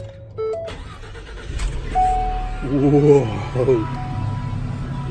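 The 3.7 liter V6 engine of a 2019 Ford van cranks and starts, then settles into a loud idle with a rising whine up close, and a voice briefly exclaims over it.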